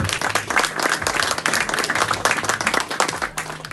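Sustained applause from an audience at a journalism award ceremony for the Orchidea d'Argento prize, steady dense clapping running throughout, with faint voices mixed in.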